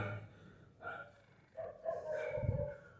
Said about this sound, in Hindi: ये आप देख सकते कुत्ते कितने ज़्यादा बोल रहे हैं कुत्ते।